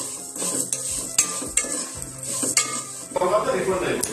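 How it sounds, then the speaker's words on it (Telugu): Vermicelli (semiya) fries in a pan until golden, in the same pan just used for cashews. A spoon stirs and scrapes it with repeated clinks over a gentle sizzle, close up and without voices. "ఇందులోనే మనకు సేమియా కూడా వేసేసేయండి ఎర్రగా వేపండి"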